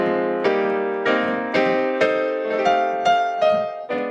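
Piano playing block chords on a tune, a clear sequence of about eight full, ringing chords struck in steady succession, solo and close with no talking.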